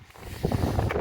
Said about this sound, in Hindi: इस टाइम पे बहुत ठंडी हवा चल रही है